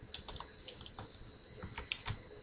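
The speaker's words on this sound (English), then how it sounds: "I'm going to type in 3711" Fingers tap a computer keyboard in short, quiet clusters of keystrokes, faint against a steady background hum.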